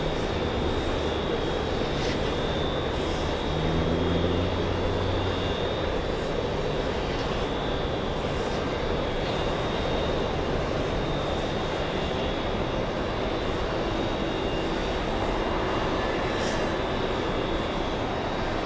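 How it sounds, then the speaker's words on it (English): A Boeing 777-200 with Rolls-Royce Trent 800 engines arriving at JFK, a steady broad engine roar with a faint high whine, moderately distant and continuous throughout. "So this 777 is the 200 powered by Rolls-Royce Trent 800s"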